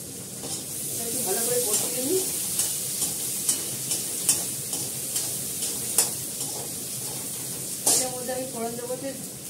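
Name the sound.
onion and potato frying in oil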